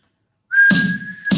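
A single person whistles one sustained, steady, clear tone, close and loud, alone with no talk, with brief breathy bursts at its start and near its end.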